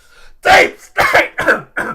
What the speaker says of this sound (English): Sorry, coughing there.